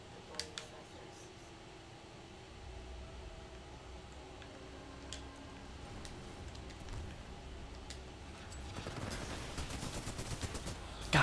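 Spitfire gun firing in the Cinder video game, starting as scattered faint shots and building into rapid, repeated bursts toward the end, with a quiet voice talking over the shooting.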